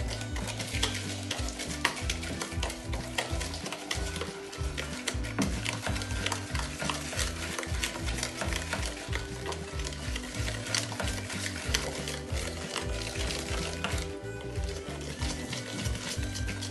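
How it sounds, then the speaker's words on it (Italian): Butter and egg being stirred together in a bowl for biscuit dough, a steady continuous scraping and swishing that runs unbroken at close range with no talk. "Adesso il burro è pronto e ci aggiungiamo dentro un uovo. E giriamo il tutto."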